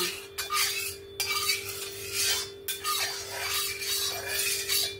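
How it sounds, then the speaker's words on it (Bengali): Metal utensil scraping and stirring oil around a kadai (wok), a steady run of scratchy strokes with brief pauses, close and fairly quiet over a constant low hum. "এবার আমি কড়ার চারদিকে ভালো করে তেলটা লাগিয়ে নেব"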